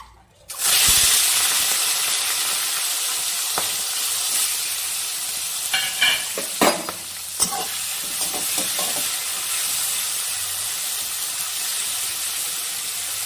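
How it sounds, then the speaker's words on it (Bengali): Prawns coated in salt and turmeric fry in hot oil in a pan, a loud steady sizzle starting sharply after a second and running throughout, with a few clinks of stirring in the middle and no voices. "আমি এখন হালকা চিংড়ি মাছটা একটু ভেজে নিই।"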